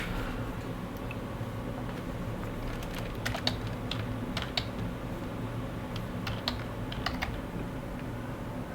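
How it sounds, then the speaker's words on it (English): Quiet, steady computer keyboard typing in short bursts of clicks and taps over a low background hum, no voices. "you should see the commands that I am typing on the top panel"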